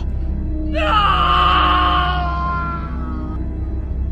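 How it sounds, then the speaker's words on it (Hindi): A single loud, drawn-out scream rises suddenly and holds for a couple of seconds before fading, over a low steady hum. "मैं बुरी तरह से चीखने लगा।"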